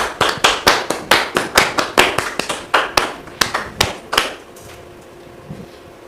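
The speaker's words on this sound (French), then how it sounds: "Merci de les recevoir sous vos applaudissements" Applause from an audience greeting guests at a mediation event, heard as a burst of sharp, distinct hand claps in a fast, uneven rhythm that stops abruptly, leaving quiet room tone.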